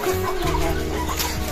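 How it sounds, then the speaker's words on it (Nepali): Hens and a large rooster with chicks in a village chicken coop cluck in quick, overlapping bursts, loud and close, against constant farmyard background noise. "यो चाहिँ कुखुराको खोर भइहाल्यो।"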